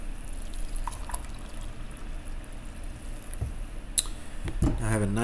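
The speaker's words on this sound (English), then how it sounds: "My coffee is done brewing, so I'm going to take a second to pour it" Freshly brewed coffee poured into a cup, a soft continuous liquid trickle under faint background noise, ending with a few clinks and a brief voice.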